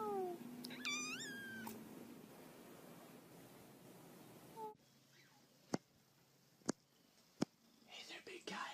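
A cat meows a few times close by, short rising cries over soft whispering, then the room goes quiet except for a few sharp clicks and faint rustling.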